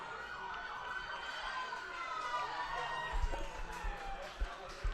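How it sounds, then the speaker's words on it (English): Ambulance and police sirens wail as they pass a college baseball game in Lakeland, their rising and falling tones layered over crowd noise and low talk from nearby. "Ambulances and police cars driving by."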